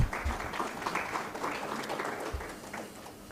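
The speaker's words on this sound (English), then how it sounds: "A round of applause for our panel of..." Audience applause at a World Bank creditor outreach conference, greeting a panel; a steady patter of clapping from a sizeable crowd at moderate, even level throughout.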